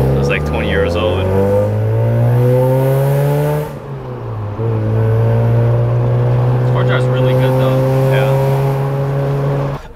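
A Mazda RX-8 fitted with stiff performance motor mounts drives off, its engine droning and rising in pitch with a steady rumble, briefly dipping before pulling again; a voice talks over it.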